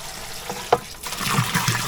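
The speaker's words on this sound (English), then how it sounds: "Okay, so it's getting filled up with clean water." Clean water flows into a chicken nipple watering container, a soft splashing fill with a brief sharp knock early on, then a fuller, louder stream of gurgling water close by.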